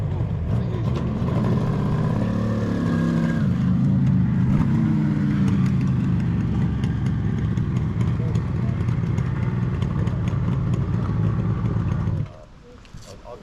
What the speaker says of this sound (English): Bikes are starting to come in now.